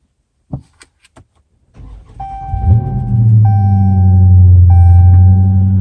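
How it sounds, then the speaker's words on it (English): A few clicks and a key turn, then a 2017 Dodge Charger Daytona 392 engine cold-starts, cranking and firing into a loud, steady idle with a faint electronic chime repeating. "So that was a cold start"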